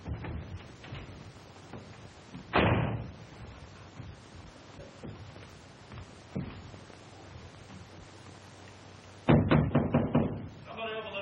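Someone knocks and bangs on a door in a 1934 serial, with a few loud thumps standing out among urgent shouting voices and background noise.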